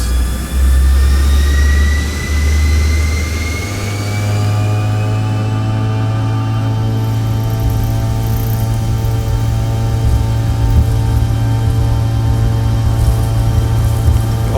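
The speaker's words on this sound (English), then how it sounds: "And of course CRJ engine sounds." A Bombardier CRJ200 regional jet's engines from a flight simulator soundpack, a loud, sustained turbine roar with a steady low drone and a high whine that rises in pitch, alone without talk.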